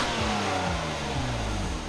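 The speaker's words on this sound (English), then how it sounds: "Floor it. And Cadenza moves out smartly with little torque steer." A 2014 Kia Cadenza with a 3.3-liter V6 and six-speed automatic accelerates at full throttle, its engine note climbing steadily and dropping through quick upshifts, heard from inside the car.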